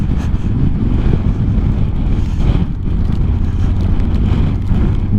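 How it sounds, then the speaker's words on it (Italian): Strong Patagonian wind near Puerto Guadal on the Carretera Austral roars steadily into the microphone, a loud, constant low rumble with rushing gusts throughout and no talking. "non so se il vento voi non lo percepite ragazzi, ma è pauroso."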